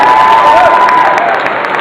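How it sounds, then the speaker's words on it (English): Loud, dense crowd applause and cheering for a guest anime voice actress at a fan event, a continuous wall of clapping with shouts from a large, close audience. "I can have a huge round of applause."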